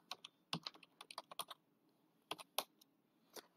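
Keys clatter on a computer keyboard as a Git version command is typed, a quiet run of quick clicks, then a pause and a few more scattered keystrokes, close and alone.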